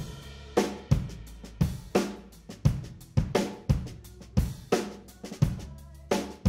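Drum kit heard through four room microphone tracks mixed together, with a steady groove of kick and snare hits that ring with roomy ambience and cymbal wash, alone and without voices.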